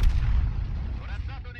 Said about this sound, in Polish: mamy tutaj jeden strzał, drugi, trzeci i jeszcze czwarty zdąży oddać